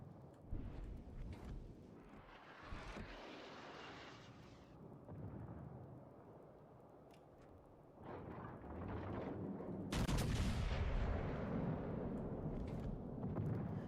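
Naval gunfire in the game World of Warships Legends: deep booming salvos and rumbling blasts rise and fall, with a louder heavy burst near the end, all in a continuous roar of battle noise.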